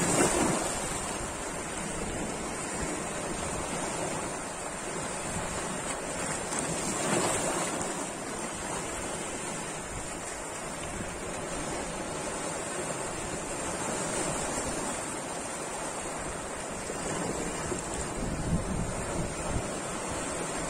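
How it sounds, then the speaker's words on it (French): Sea waves rolling in along a rising tide, a continuous roar of surf with gusting wind buffeting the microphone, steady and fairly loud throughout with slight swells in intensity and no voices. "regarder le mouvement de la mer qui monte"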